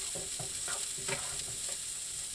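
Cooked rice tumbling into a frying pan with mushrooms and shallots for shrimp and pork fried rice, giving a steady close sizzle broken by several soft stirring scrapes, with no talking.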